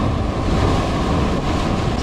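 Ocean waves break at Praia de Tombo in a continuous, loud, close roar of surf mixed with buffeting wind noise, and no voices are heard.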